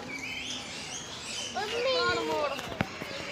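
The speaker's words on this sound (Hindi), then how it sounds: "एक नया चिड़िया वहाँ पे, इन चिड़िया का भाई बहन बैठे हुए हैं चिड़िया खाना में" Birds chirp and twitter at Alipore Zoo. Short, bright calls cluster in the middle of the stretch over a steady outdoor murmur, while people talk nearby.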